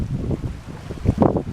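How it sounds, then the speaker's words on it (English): Strong ocean wind rumbles across the microphone at a winter palm garden on the Canadian coast, with low surging wave wash underneath, loud, close and continuous without talk. "Ocean"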